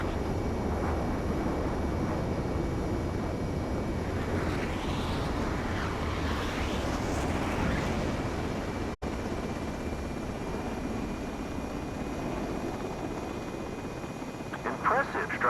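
A fighter jet lands on a runway in Ace Combat 7, with a constant broad engine roar and hiss that holds steady and then thins after a brief dropout, ending in a few faint clicks, all fairly loud and close.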